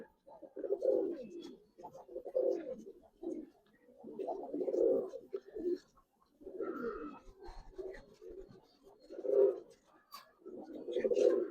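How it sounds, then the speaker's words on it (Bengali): Giribaz jumper pigeons on a farm cooing in repeated bursts, close and fairly loud, with soft flapping and rustling between the calls and no talking. "এই যে ছাড়ো জাম্পার কবুতর ভাই দেখেন এই নটটা ছাড়লাম"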